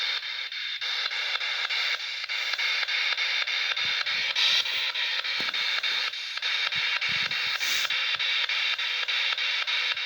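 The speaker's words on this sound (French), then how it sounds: "Donc ça, c'est de la radio." Steady, loud hissing radio static fills the room continuously, with faint intermittent clicks and crackles underneath and no voice over it.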